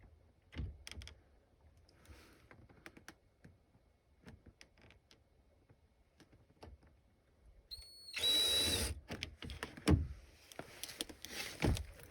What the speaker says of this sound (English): When you're drilling.